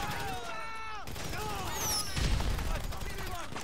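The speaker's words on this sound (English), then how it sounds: "I forgot I stole the firework launcher." A firework launcher fires in GTA V Online, with booms and crackling bursts mixed into game sound and whistling tones, while a voice talks over the action.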